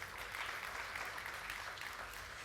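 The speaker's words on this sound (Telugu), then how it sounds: "ఇప్పుడు కొట్టండి చప్పట్లు." A church congregation claps together in a steady, dense, fairly faint wash of applause throughout.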